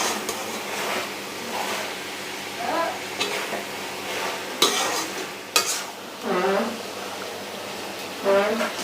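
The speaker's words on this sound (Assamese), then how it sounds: "এইখিনি মই আকৌ এবাৰ ভাজি ল'ম ভালকৈ।" Black taro and chickpeas fry in a pan, with a soft sizzle under repeated scraping stirs and a few louder spoon knocks. A faint voice comes in now and then.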